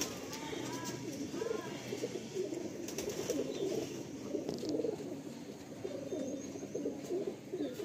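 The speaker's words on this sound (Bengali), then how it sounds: "এগুলো নর পায়রা।" Male pigeons from breeding pairs coo softly in repeated low, throaty phrases, with a voice speaking over them at close range.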